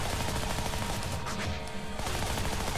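Dense, continuous gunfire in the brawler game Shank, rapid overlapping shots and bursts that stay loud for nearly three seconds with only a brief dip midway.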